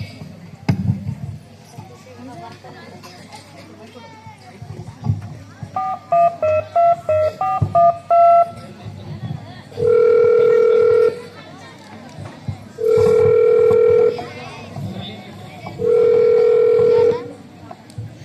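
During a children's school stage play, a short run of rising and falling dialing tones is followed by three long, loud, steady telephone tones spaced a few seconds apart, heard over low room noise and some voices.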